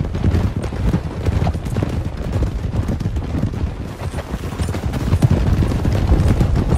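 Hooves of several horses riding out together in Red Dead Redemption 2, a loud, dense, continuous clatter of galloping with rumbling ambience, sustained throughout without speech.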